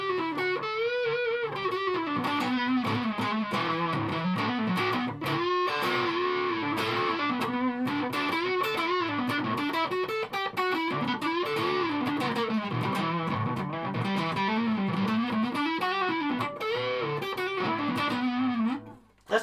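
Electric guitar played through an ARTEC QDD Quadsound preamp with distortion, a continuous saturated riff with sustained chords and single notes, loud and close with no talking, cutting off abruptly at the end.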